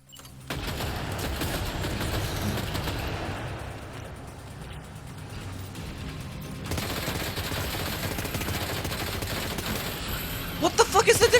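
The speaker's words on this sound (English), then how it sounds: "Heavy machine gun." A heavy machine gun firing in Death Stranding 2, a sustained, dense rattle of rapid shots that runs almost the whole time, fairly loud, with a few sharper bangs near the end and speech mixed in underneath.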